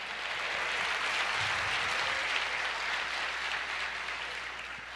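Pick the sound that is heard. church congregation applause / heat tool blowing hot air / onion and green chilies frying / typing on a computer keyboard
church congregation applause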